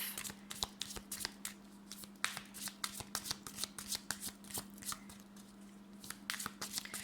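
A deck of tarot cards is shuffled by hand up close, a quick series of crisp riffling snaps and flicks repeating over several seconds, with no one talking.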